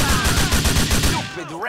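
Rapid automatic gunfire rattles in GTA 4, a dense close burst of evenly spaced shots lasting about a second, then a warbling siren-like tone takes over as the shooting stops.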